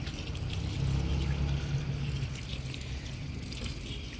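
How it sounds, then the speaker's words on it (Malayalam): A continuous gush of water poured into a container to half-fill it for an organic farm slurry, steady and close, with a low rumbling undertone throughout and no talking. "ഇതിൻ്റെ ഒരു പകുതി ഭാഗത്തോളം വെള്ളം ഒഴിച്ച് കൊടുക്കാം"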